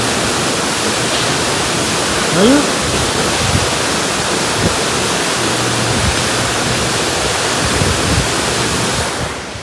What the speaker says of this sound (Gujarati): કવામાં પાણી તમે જુઓ, પાણી કેટલું આવે એમ જુઓ તમે